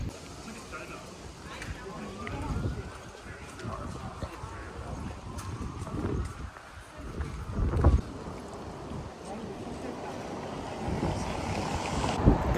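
Strong wind roars and buffets the microphone in a steady, rough rush in Warsaw city centre, Poland, with waves and a faint murmur of voices underneath.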